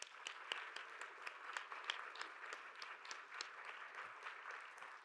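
A church youth service congregation claps for a returning Kyrgyzstan outreach team, a soft, moderately distant patter of hands with a few sharper individual claps standing out.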